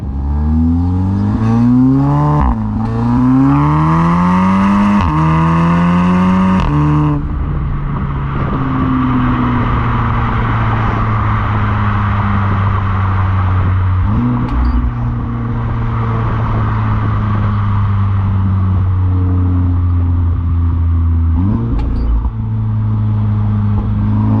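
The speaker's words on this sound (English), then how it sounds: "right now I'm not that excited about how the exhaust sounds. I'll play a clip now." A Volkswagen Golf R with a Stage II setup revs hard several times through its exhaust, rising and falling in pitch, then settles into a loud droning idle with occasional blips of throttle.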